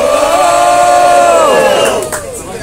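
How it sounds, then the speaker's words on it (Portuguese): Crowd at a street rap battle shouts and cheers loudly for a rapper, a dense roar of voices that fades out toward the end. "Quem gostou das rimas de Marcelinho, barulho bom pro alto"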